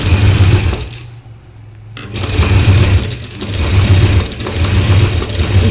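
A sewing machine runs steadily, stitching the stand collar strip onto fabric for a jabba (kurta). It whirs loud and close in a rapid mechanical rhythm, pauses briefly near the start, then resumes for several seconds with no talking.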